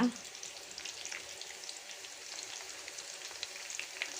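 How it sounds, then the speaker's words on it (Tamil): Halved shallots and curry leaves frying in hot coconut oil give a steady, soft sizzle with fine crackling spatters, continuous and fairly quiet throughout. "இப்போ தேங்காய் எண்ணெய் ஊற்றிட்டு இந்த மாதிரி சாம்பார் வெங்காயம் வந்துட்டு ரெண்டாக கட் பண்ணுது ஒரு இருபது பீஸு அதை இதில் போட்டுக்கோங்க"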